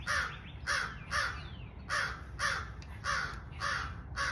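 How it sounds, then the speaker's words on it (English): Crows caw over and over in a steady rhythm of harsh, loud calls, about eight in a row, fairly close and clear above a faint low background hum, with no voices. "Sorry, I'm so distracted with the crows."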